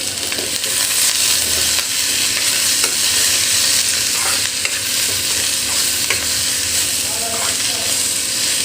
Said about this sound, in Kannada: ಈಗ ನಾನು ಸ್ವಲ್ಪ ಎಣ್ಣೆ ಹಾಕ್ತೀನಿ.